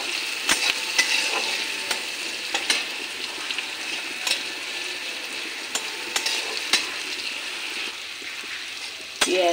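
Chopped onion and garlic frying in oil in a pan, with a steady sizzle and repeated sharp scrapes and taps of a spatula stirring, fairly close and with no talk.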